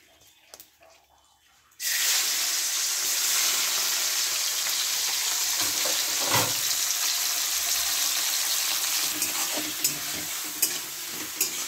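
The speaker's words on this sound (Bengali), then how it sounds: "সব হালকা হালকা ভাজছি" Prawns, about 300 grams, frying lightly in a pan for Bengali-style egg prawn fried rice: after a quiet start with small clatters, a loud sudden sizzle sets in and holds steady, with occasional stirring scrapes and clicks.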